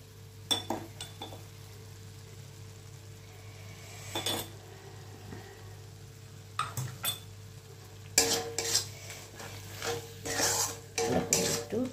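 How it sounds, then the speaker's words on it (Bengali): Masala spices being stir-fried in a pan for a Bengali motorsuti dish, with a spatula scraping and clinking against the metal at irregular intervals over a steady low background hum, busier toward the end. "একটু কষিয়ে নিই মশলাটাকে।"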